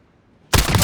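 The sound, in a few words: RAAL MG gunshots in Call of Duty Modern Warfare video game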